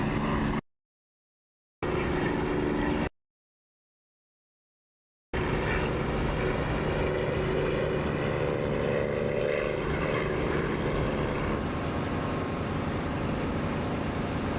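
A bomber's propeller engines drone in the DCS flight simulator, a steady loud aircraft hum after a couple of brief cut-outs to silence at the start.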